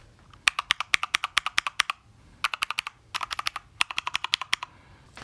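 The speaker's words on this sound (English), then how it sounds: "I have the brown switches that are a lot less loud than the blue switches" Quick bursts of crisp keystrokes come from a mechanical keyboard with brown tactile switches, in three or four runs of rapid typing separated by short pauses, close up and moderately loud with no voices.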